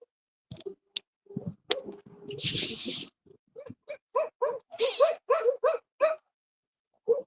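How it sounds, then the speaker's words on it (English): Several dogs barking in a street, a run of sharp, evenly spaced barks at close range, with scattered rustling and a brief breathy noise between them. "Oh crap. Dogs."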